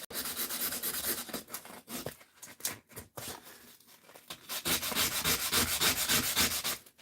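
Hand sandpaper rubbing paint down to the primer layer, brisk scratchy back-and-forth strokes in uneven bursts with a short lull in the middle, close and fairly loud.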